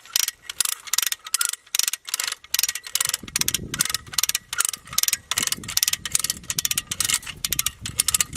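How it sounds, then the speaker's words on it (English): A ratchet pulley cranks fence wire tight on a farm, giving rapid, sharp clicking in quick repeated bursts close by, with a low rumble of strain or wind underneath from midway on. "I can just use this pulley to pull everything nice and tight"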